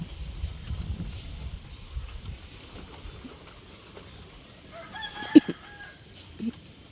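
Chickens cluck and a rooster briefly calls in the distance over a low outdoor rumble, with scattered faint sounds around them.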